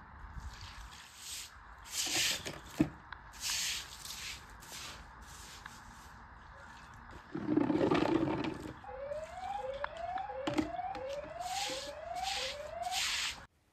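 A camera's rising, repeating electronic siren-like wail sounds in short sweeps during a power cut, moderately loud, over faint background rustling and scattered knocks.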